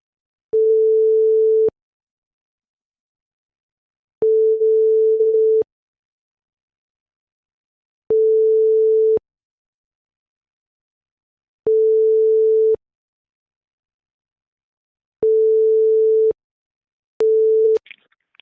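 A telephone line on a dialed call gives a repeating single-pitch tone: six steady beeps of about a second each, spaced by roughly two-second silences, clear and alone.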